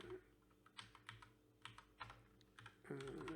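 Quiet clicking of keys on a computer keyboard, irregular bursts of typing at close range, with a faint hum underneath.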